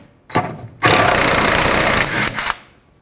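A power tool whirs loudly in short bursts, spinning off 13mm bolts holding the spare tire carrier under a 2008–2010 Ford F-250, with a long steady run between brief starts and stops.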